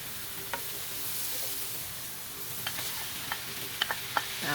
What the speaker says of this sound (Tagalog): Tapos onions. Saute po natin na mabuti.